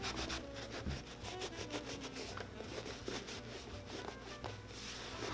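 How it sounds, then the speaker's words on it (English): Cloth rubs and wipes over a smooth leather boot during cleaning, quiet close brushing strokes in an uneven rhythm with faint scuffs, alone without talk. "we're just going to rub over the boot"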